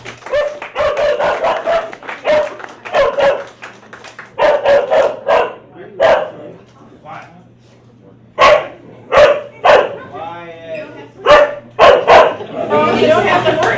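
A dog barks repeatedly in short loud bursts, some close together, with whimpers and yips between, while people talk in the gaps over a low steady hum.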